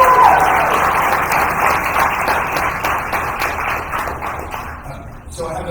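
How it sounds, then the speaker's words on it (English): Audience applause at a sports championship press conference fills the room, a dense steady wash of many clapping hands that holds loud throughout, then thins near the end as a voice starts speaking over it. "So a round of applause"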